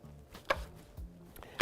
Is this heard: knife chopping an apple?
yes